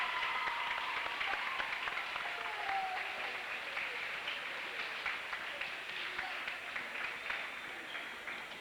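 A crowd applauds steadily for several seconds at an eighth-grade basketball championship game, a dense wash of clapping that stays loud throughout and tapers slightly toward the end.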